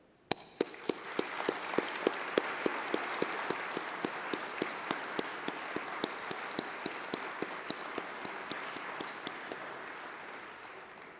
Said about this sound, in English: let's have a round of applause for all those special people, your family, your friends, and your tutors who have supported you